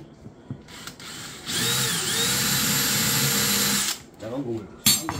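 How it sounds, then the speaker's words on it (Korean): A small drill bores a hole during work on a GV80 car audio and battery setup, whining loudly and steadily for about two and a half seconds, with faint handling noises and a brief voice before and after. "작은 드릴 가지고 일단 구멍을 한번 내면 됩니다."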